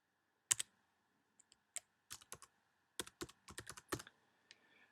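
Quiet, irregular clicks and taps of keys on a computer keyboard as login details are typed in, in short bursts with pauses between them and no voices.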